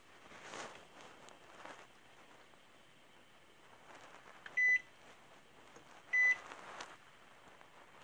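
Two short electronic beeps from an oven's control panel as fan-forced heat is set to 170 degrees, crisp and close against a quiet kitchen background with faint shuffling.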